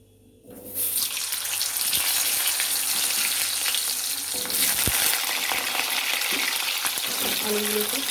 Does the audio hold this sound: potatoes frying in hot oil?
yes